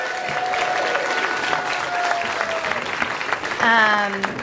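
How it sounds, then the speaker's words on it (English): Audience applause at a mahjong event fills the room as a steady wash of clapping, with a voice speaking over it near the end. "So, everyone give them a round of applause."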